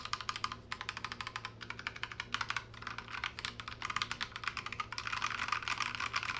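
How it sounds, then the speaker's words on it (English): Rapid, steady clacking of bare switches on an Akko 3068B 65% mechanical keyboard, close and continuous with dense keystrokes building slightly toward the end, no voices. "We're gonna get a sound test of just the switches"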